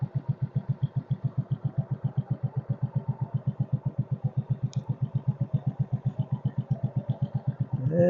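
Case 224 garden tractor engine driving a wood splitter, a steady fast thumping idle with even regular pulses that stays loud and close throughout.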